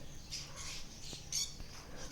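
A blue conure parrot gives a few short harsh squawks over low background noise, with no talking.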